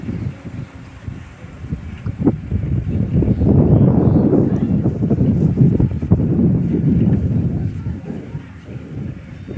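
Strong wind gusts ahead of an evening storm at a farm threshing floor where harvested grain lies out, a heavy, buffeting roar rising and falling across the whole span with no voices.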